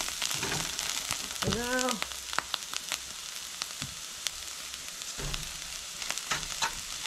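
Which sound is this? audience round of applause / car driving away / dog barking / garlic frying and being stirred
garlic frying and being stirred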